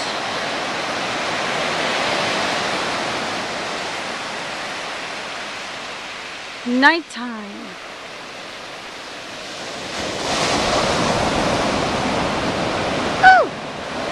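Ocean waves wash onto Avila Beach at night as a steady, broad surf roar, swelling again near the end; a voice briefly whoops and someone speaks once over the rushing water.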